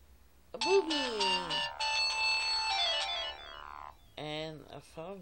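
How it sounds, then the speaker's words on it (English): A phone rings loudly and close with sustained, layered ringtone tones lasting a few seconds, followed by a voice speaking. "and a phone that's going off."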